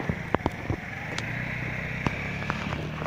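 A car engine idles with a steady low hum in the open air, buffeted by gusts of wind and a few sharp knocks and clicks nearby, with no talking.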